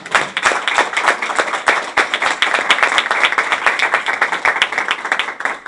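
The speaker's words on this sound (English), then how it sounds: "those in attendance, have a round of applause for those accomplishments" Audience at a school board meeting clapping for state champion swimmers, sharp individual claps standing out in a lively, fairly close burst of applause that continues throughout.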